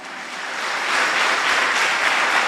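A church congregation applauding together, dense clapping that swells in the first second and then holds steady.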